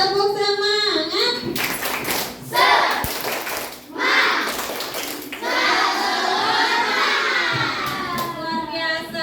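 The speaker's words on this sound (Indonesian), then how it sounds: "Tepuk semangat." A classroom of children claps a rhythmic group cheer, with bursts of clapping and chanting voices mixed with a teacher's talk, loud and close.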